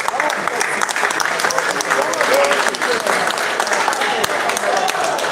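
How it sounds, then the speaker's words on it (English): Fans at an international pool money match break into a sustained round of applause after the black ball is potted, dense clapping filling the room with some voices mixed in throughout. "I just let you have a listen to the round of applause from the fans."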